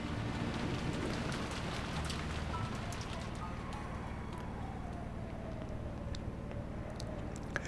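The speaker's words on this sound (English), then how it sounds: "In fact, the rain and the wind felt even noisier now." Steady rain and wind from an Umineko visual novel scene, a continuous noisy wash with low rumble, loud and unbroken throughout with no voices.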